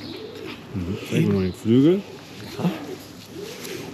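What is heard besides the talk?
racing pigeon cooing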